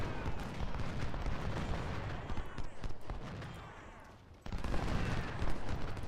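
Civil War cannon fire rumbles in dense overlapping booms during the Chickamauga battle in Ultimate General Civil War, a continuous roar of distant artillery that dips briefly before surging back loud.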